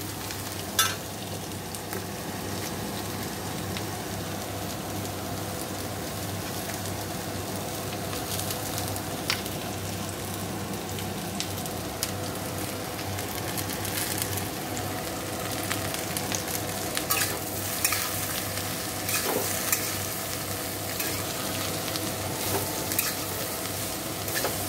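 Pointed gourd (kakrol) pieces sizzle steadily in hot oil in a home kitchen, a continuous close crackle with scattered pops and light utensil scrapes, no talking.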